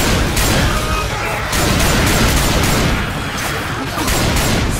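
Gunfire from the video game Left 4 Dead 2: a dense, continuous fusillade of shots and bursts fills the whole stretch, loud and near, with a faint chatter of voices beneath.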